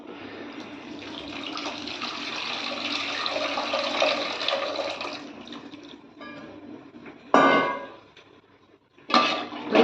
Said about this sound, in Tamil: புளி தண்ணி ஊற்றிக்கிறோம்.